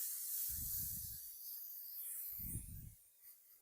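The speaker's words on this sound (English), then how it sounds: "We are going to be using cooking spray and spraying our sheet." A quiet, airy hiss of cooking spray onto a baking sheet, held steadily for a few seconds up close, with two faint low bumps in the background.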